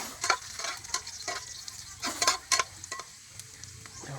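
Garlic sizzles in rendered pork fat in a pan, a soft steady hiss broken by repeated scraping stirs and light clinks of a utensil against the pan, close and alone without talk.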